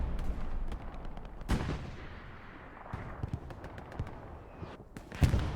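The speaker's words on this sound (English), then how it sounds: "Artillery is blasting both sides here." Artillery shells and gunfire rumble across a battlefield in Hell Let Loose, a World War II shooter, with sharp blasts cracking out every second or so over distant crackling shots.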